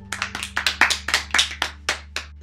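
A small group claps their hands in an uneven burst of about a dozen sharp, close claps over a faint steady hum, tapering to a few final claps.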